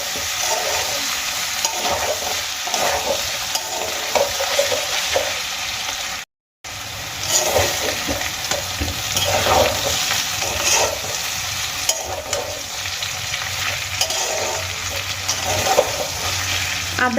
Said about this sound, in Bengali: পেস্ট দিয়ে আমি সবজিগুলোকে কিছুক্ষণ ভেজে নিয়েছি